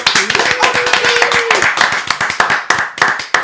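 A crowd claps for a contestant during a live Pokémon battle royale show: sharp, fast, uneven hand claps close by, with a brief whoop at the start and no one speaking over them.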